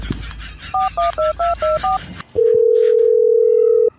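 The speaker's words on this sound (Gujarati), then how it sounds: "તમે જલ્દી ડોક્ટરને ફોન કરો" Telephone keypad dialing as a doctor is called: six short, evenly spaced dual-tone beeps, then a steady ringback tone held for about a second and a half, loud and clear with no voices.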